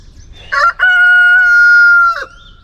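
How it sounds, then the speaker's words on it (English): A rooster crows loudly nearby, one long drawn-out call preceded by a short squawk, otherwise quiet. "we got Eli's chickens behind me there"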